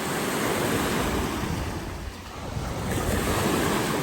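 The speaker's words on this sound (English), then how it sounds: "strong wind. Look at the wave. It is very strong." Strong wind gusts roar across Clearlake while waves crash and churn near the shore, a loud continuous wash with wind buffeting the microphone and a brief dip before surging back, no talking.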